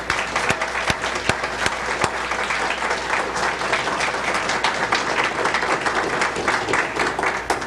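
Sustained applause from an audience at a MUFON lecture on crop circles and sacred sites, dense steady clapping with a few sharper claps standing out, close and full for several seconds.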